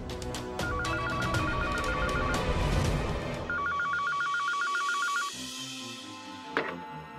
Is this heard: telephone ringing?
yes